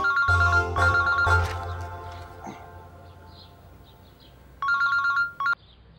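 A telephone ringtone trills loudly in a few repeated bursts, then fades to quiet before one more short ring cuts in near the end.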